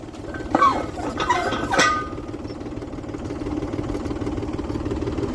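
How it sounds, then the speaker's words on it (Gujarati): A tractor engine runs steadily during groundnut threshing with a thresher on a farm field, a low, continuous mid-pitched rumble with a few louder knocking bursts near the start. "વાહ ટ્રેક્ટર હાલે છે બરાબર"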